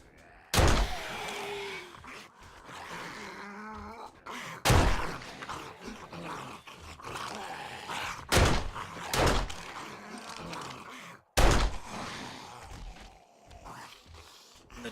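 A pistol with a dot sight fires in 7 Days to Die, Alpha 17.2. Five or six sharp, loud single shots ring out several seconds apart, with quieter movement and ambience between them.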